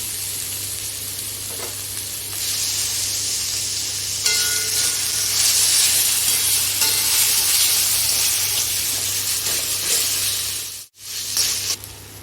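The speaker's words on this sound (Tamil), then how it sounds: "பெரிய வெங்காயம் பொடியாக நறுக்கி இருக்கிறது. வதங்கட்டும்." Finely chopped large onions sizzle and fry steadily in a pan for a Madurai egg dish, a constant loud hiss with brief stirring changes and a short pause near the end, no voices.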